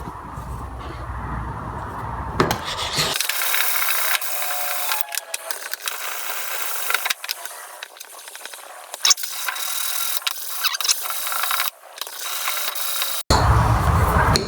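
A chisel is rubbed back and forth on an old oil stone, giving a continuous close scraping and rasping grind with uneven strokes, bracketed by short bursts of louder handling noise at the start and end.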